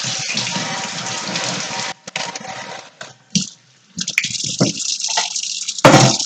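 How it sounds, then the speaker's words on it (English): Kitchen water tap turned on at a sink during home cooking, giving a steady rushing hiss of running water close by for about two seconds, then brief gaps, clatter and splashing as the flow resumes and stops. "That's going to be the water turning on."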